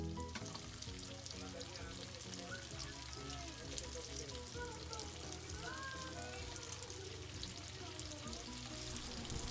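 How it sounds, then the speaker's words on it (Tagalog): Tofu fries in hot oil in a pan with a steady, close sizzle and crackle that runs the whole time, and faint spoken commentary sits underneath. "Kapag mainit na ito, ay simulan na natin i-fry ang ating tofu."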